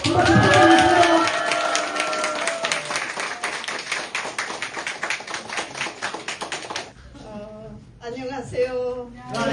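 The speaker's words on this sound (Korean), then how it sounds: "큰 박수 부탁드리겠습니다" Applause from the audience at the opening of a Jinbo Party provincial council candidate's election office, many hands clapping in a dense, steady patter for several seconds. It fades out, then a voice begins speaking.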